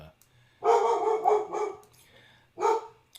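A pet dog barks in a home setting: a run of several loud, close barks followed after a short pause by one more bark, with faint background hum.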